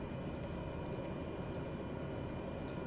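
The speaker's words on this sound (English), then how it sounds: "we're going to taxi down to the end of the runway here and then take off" The turboprop engine of a Cessna Caravan drones steadily while the plane taxis in a flight-simulator game set in American Samoa. The hum is faint and even throughout, with no talk.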